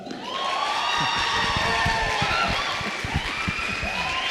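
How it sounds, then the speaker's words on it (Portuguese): An audience at a podcast event bursts into applause and cheering, with clapping mixed with shouts and whoops from the crowd throughout. "eu queria que você aplaudisse com toda a sua força, Clebão Louco."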